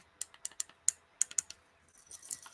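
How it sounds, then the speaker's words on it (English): Clicky fire and adjustment buttons on a plastic Dovpo Topside Lite squonk vape mod pressed in a quick irregular series of sharp, close, bright clicks, followed by softer handling rustle. "I hope you can hear clicky buttons"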